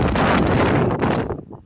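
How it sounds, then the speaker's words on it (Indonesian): Strong wind roars and buffets the microphone at post 3 on Mount Merbabu during a mountain storm, a loud, broadband rush that eases slightly near the end. "Itu saking kencangnya angin di pos 3 ini."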